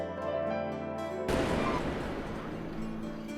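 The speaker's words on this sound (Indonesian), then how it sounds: "Yuki dan Hitoyoshi pun menunggu di taman dan melihat kembang api festival itu" Festival fireworks in an anime burst after a sustained musical tone, one loud close explosion followed by crackling, rumbling decay.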